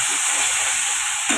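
Tomato sauce hits hot fried masala in a pan, giving a loud, steady sizzle and hiss that holds throughout.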